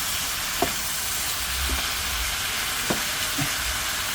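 Eel stir-fried in a pan with kaffir lime leaves: steady loud sizzling and hissing, with a few sharp scrapes and clacks of a spatula stirring the food.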